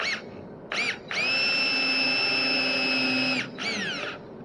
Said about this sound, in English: And I have another drill over here. And I have a screw.